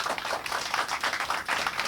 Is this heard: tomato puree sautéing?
no